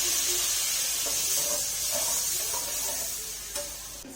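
Rice sautéing lightly in a pan gives a steady, close, soft sizzling hiss with faint stirring scrapes. No voices can be heard.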